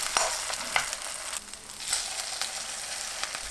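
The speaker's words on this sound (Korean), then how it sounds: "식용유 두른 팬이 예열되면 반죽을 넣고 중불로 앞뒤 노릇하게" Lettuce pancake batter sizzling in a preheated, oiled pan over medium heat, a bright steady crackle with occasional louder pops and stirring scrapes, close and with no voices.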